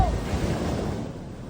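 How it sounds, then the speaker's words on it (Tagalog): Strong waves crash in a rough, raging sea as salvage workers struggle to swim, heard as a dense, roaring wash of surf with heavy wind buffeting the microphone, steady and close. "Sa gitna ng malalakas na hampas ng alon, pilit na lumangoy ang mga salvage worker na ito para makaligtas sa nagangalit na dagat."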